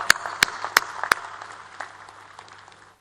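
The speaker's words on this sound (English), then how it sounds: "ask all others in this audience to give a big round of applause to our graduating students" At a university graduation ceremony, four sharp, loud claps ring out close by, with scattered fainter clapping from the audience that thins out and fades to quiet.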